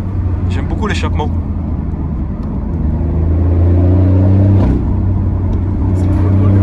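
BMW i8 Liberty Walk exhaust drones steadily with a low, loud rumble, swelling briefly around the middle as the revs rise, while people talk over it inside the car.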